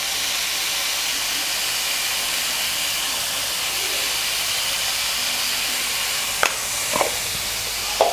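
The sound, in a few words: cauliflower with salt roasting in pan on low flame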